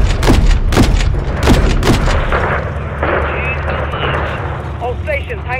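RPG launches and explosions in Call of Duty Modern Warfare III roar close and loud in a battle around a hangar, several heavy booming blasts in quick succession followed by rumbling debris and scattered combat noise, with voices talking over it.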